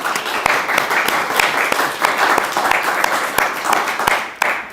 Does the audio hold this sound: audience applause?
yes